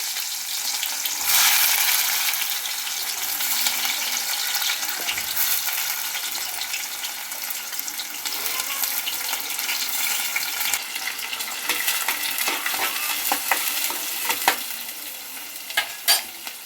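Onion and garlic pieces fry in hot oil with mustard and cumin seeds, giving a loud, steady sizzle and crackle throughout, with scattered stirring scrapes and clicks near the end.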